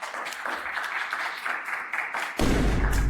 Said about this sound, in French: Applaudissez-le, s'il vous plaît.